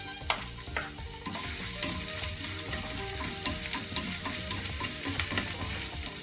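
Chopped onion and green chilli fry with cumin for palak paneer, producing a continuous close sizzle and crackle with frequent stirring clatter from the pan.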